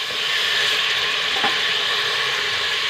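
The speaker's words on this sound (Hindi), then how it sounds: "ये गोश्त अच्छे से भून चुका है" Mutton frying in a pan for Lucknow mutton masala gives a dense, continuous, loud sizzle, with a faint scrape near the middle and no voices.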